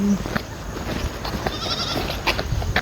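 A goat bleats outdoors at night, the wavering cries mixed into a noisy background with footsteps and rustling from someone walking nearby.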